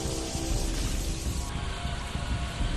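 Heavy rain pours down on a flooded street in Amroha, Uttar Pradesh: a steady, dense roar of falling water that stays loud and unbroken throughout, with no voices.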